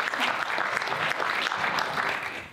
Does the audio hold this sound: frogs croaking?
no